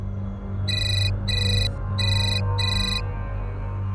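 A phone ringtone plays in four short, bright electronic bursts separated by brief gaps, fairly loud over a low steady hum, with no talk.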